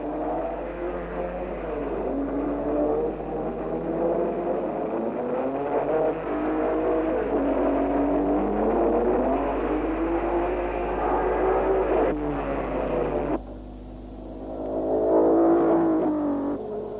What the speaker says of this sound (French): Mais David York, le patron de Van Wall, n'a pas besoin de demander à Brooks d'accélérer